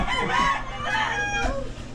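Chickens cluck and a rooster crows loudly nearby in a narrow slum alley in Novaliches, Quezon City, Philippines, a couple of drawn-out calls in quick succession.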